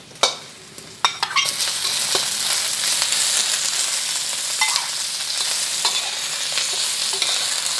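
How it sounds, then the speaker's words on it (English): Shrimp frying in oil with garlic, a steady loud sizzle filling the pan, with sharp clatters of stirring near the start and occasional scrapes throughout; no talking. "Then we're gonna get our shrimp in there."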